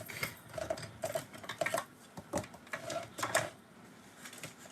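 A hand-cranked die-cutting machine presses stitched-edge dies through card pieces, giving a quiet, uneven series of clicking, ratcheting knocks from each turn of the crank.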